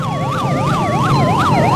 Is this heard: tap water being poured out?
no